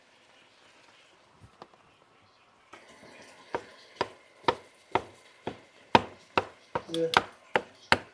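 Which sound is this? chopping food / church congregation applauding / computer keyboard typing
chopping food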